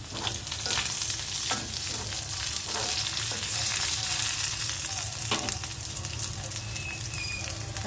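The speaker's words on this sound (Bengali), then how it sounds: "পেঁয়াজের মধ্যে কয়েকটা শুকনো মরিচ দিয়ে দিলাম, আর দুটো কাঁচামরিচ।" Onions fry in oil with dried red chillies and two green chillies, a dense, loud sizzle crackling nonstop at close range. Occasional stirring scrapes come through the hiss, and nobody speaks.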